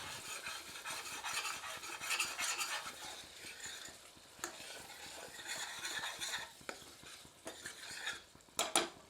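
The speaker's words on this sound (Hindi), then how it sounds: "इसे 2 मिनट मध्यम आंच पर भूनते हैं।" Spiced chicken curry masala with Kashmiri chili being stirred and roasted in a pan over medium heat, a steady scraping and clinking of a utensil against metal over a soft sizzle, with a few sharper knocks near the end.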